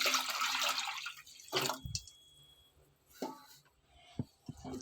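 Water splashes and pours in short bursts into a cooking pot for tomato rasam, with a steady stream followed by a few drips and clinks, close by.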